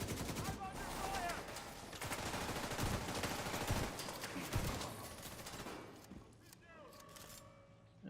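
Gunfire in the Division 2 shooter game, dense rapid bursts of automatic shots and a few heavier cracks running almost continuously, loud and close, tapering near the end, with a voice shouting over it.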